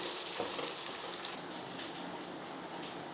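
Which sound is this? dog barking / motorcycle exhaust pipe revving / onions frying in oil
onions frying in oil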